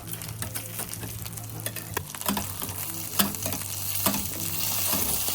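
Fish fries without oil in a hot pan, giving a steady close sizzle broken by sharp scraping and stirring clatters from a utensil, and the frying noise builds slightly toward the end.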